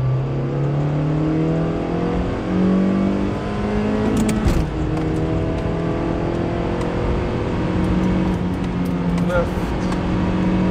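A Honda Fit GE8 fitted with a short shifter revs its engine as it downshifts into second, the pitch rising and falling through the gear change, loud and close from inside the cabin.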